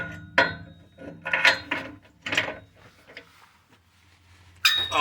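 Ratchet working on the exhaust pipe bolts of a Chrysler 300C, close metallic clicking and clanking in short uneven bursts with pauses between.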